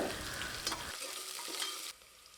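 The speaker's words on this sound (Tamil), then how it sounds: "இதை சேர்த்து நல்லா வதக்கி விட்டுக்கலாங்க" Onions sizzling and crackling in hot oil while being stirred, close and loud, the frying noise dropping off near the end.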